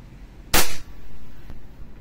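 A WE Glock 17 Gen 5 gas airsoft pistol fires a single sharp, loud crack, then a brief fainter hiss and a small click follow in a quiet setting.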